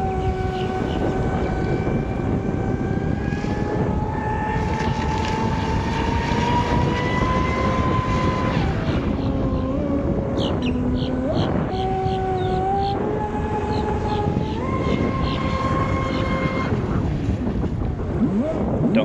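A Sonicwake 6s Level 1 RC boat runs on open water, its high electric motor whine steady and rising and falling in pitch through passes, with wind buffeting the microphone throughout and no voices.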